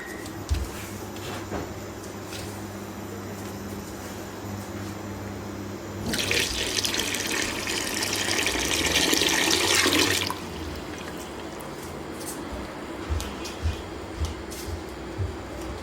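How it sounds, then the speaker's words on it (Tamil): Water gushes loudly for about four seconds into a vessel of sugar to make syrup for gulab jamun, set between quieter stretches of kitchen clatter and light knocks. "அந்த சுகர் மூழ்கிறது அளவுக்கு நான் வந்து தண்ணி ஆட் பண்ணிக்கிறேன்"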